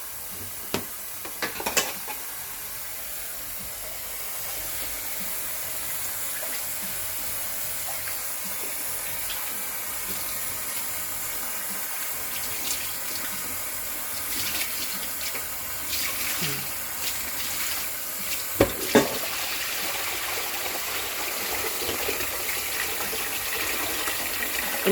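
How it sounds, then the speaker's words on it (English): Tap water runs steadily over raw chicken in a sink while it is rinsed during preparation for Jamaican curried chicken, a continuous close splashing with a few louder spatters and clinks near the start and again near the end. "Again, make the water run on it."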